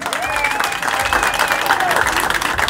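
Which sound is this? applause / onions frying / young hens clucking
applause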